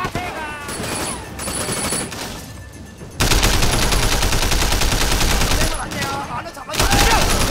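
Rifle fire in Sleeping Dogs, loud rapid automatic bursts that swell sharply partway through into a dense sustained volley, with voices talking amid the shooting.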